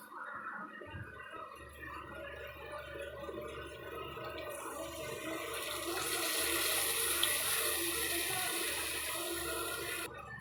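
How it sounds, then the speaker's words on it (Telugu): Water is poured into a cooking pan after the oil has separated, making a rushing, bubbling pour that swells halfway through and holds steady over low kitchen background noise. "ఆయిల్ సపరేట్ అయిపోయిన తర్వాత ఇప్పుడు మనం కొంచెం వాటర్ యాడ్ చేసుకుందాం."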